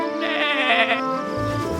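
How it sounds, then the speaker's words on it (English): A cartoon lamb gives a wavering, drawn-out bleat lasting most of a second or more, loud and close, with a low rumble entering near the end. "Bleats Lolly the lamb."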